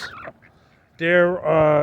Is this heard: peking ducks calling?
yes